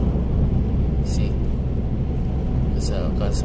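School buses and other vehicles driving alongside on a cold morning road in Canada, heavy steady engine and road rumble from close by, loud and continuous with a few brief higher swishes.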